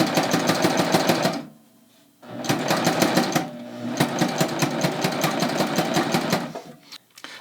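Baby Lock Ovation serger stitching and trimming a seam, fast rapid mechanical chattering in three bursts with a short quiet pause after the first, close and loud.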